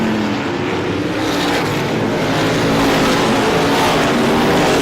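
ISMA supermodified race cars thunder through traffic at Star Speedway during the Classic 150, a loud, unbroken multi-engine roar that builds slightly toward the end.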